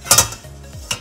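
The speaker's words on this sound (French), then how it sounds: "Tu mets tes légumes dans la passoire." Vegetables and a colander set into a large pot with water in the bottom for steaming, making a sharp clatter of metal and a second lighter clink, close and fairly loud.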